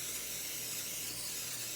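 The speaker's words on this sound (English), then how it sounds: "And I'm gonna spray my pan." Great Value cooking spray hisses liberally onto a frying pan in a kitchen, a steady close airy spray that runs without a break for nearly two seconds.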